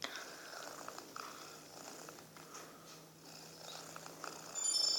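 A real pet cat purrs softly and steadily close by, a faint continuous low rumble over quiet room noise, with no talking.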